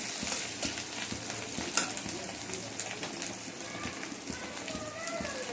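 A fish head frying in oil until reddish, ahead of cooking moong dal, a dense steady crackling sizzle with occasional soft stirring knocks, close and unbroken with no voice.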